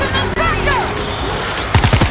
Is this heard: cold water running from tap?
no